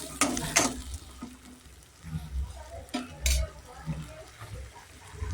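Ginger and green chili paste with asafoetida stirred in a pan over a low flame, with scraping strokes and a soft intermittent sizzle at moderate, fairly close level, no voices.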